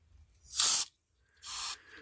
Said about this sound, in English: We'll spray those and clean those.